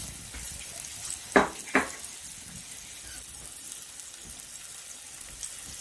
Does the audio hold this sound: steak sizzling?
yes